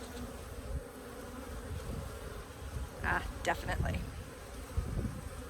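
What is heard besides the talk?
honeybees buzzing in an open hive during inspection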